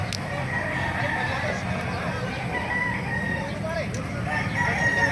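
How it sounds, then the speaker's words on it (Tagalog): Several roosters crow repeatedly amid a busy outdoor din of clucking fowl and distant voices at a chicken market in Bocaue, Bulacan. "Napakaraming manok"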